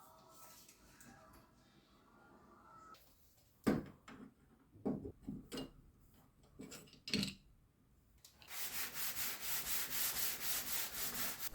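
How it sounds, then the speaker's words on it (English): Sandpaper rubs across a wooden door during a kitchen renovation: several separate scraping strokes and knocks come first, then a steady rhythmic back-and-forth sanding that runs close and continuous to the end. "After sanding it with 100 grit and then 220 grit sanding paper"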